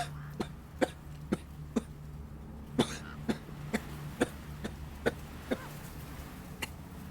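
A narrator imitates a terrible coughing fit, voicing about a dozen sharp, hacking coughs in an uneven rhythm, close and moderately loud over a low steady hum.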